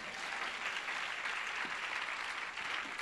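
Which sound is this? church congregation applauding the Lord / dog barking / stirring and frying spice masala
church congregation applauding the Lord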